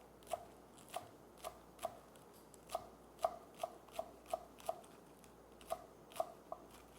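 A knife finely chops green onions (scallions) on a cutting board, giving a dozen or so crisp, separate taps at an uneven, unhurried pace over quiet room background.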